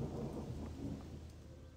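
Quiet, steady rainfall with a low rolling rumble of thunder underneath in the video game Gothic II, soft and distant, no voices.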